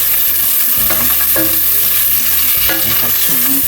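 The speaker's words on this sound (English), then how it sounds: "let it fry" Rice and black beans frying in a pan, a loud, steady sizzle with occasional stirring clatter and no talk.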